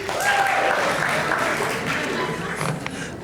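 Graduating journalism students are cheered with applause at a Columbia Journalism School ceremony, a steady broadband wash of clapping that stays loud for the whole stretch between names.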